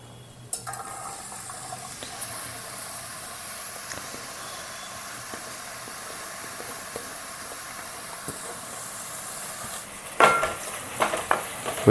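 Onions frying in oil on a stove, a steady hissing sizzle that suddenly swells louder near the end as more goes into the pan, followed by a few clattering stirs, with no one talking.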